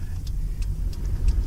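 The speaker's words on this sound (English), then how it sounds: "driving in my car, no doubt you can hear the sounds of traffic in the background." Car traffic heard from inside a moving car, a low steady road and engine rumble with a few faint ticking clicks, and a louder whoosh near the end as a vehicle passes.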